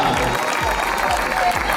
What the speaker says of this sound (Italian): Facciamo un bel applauso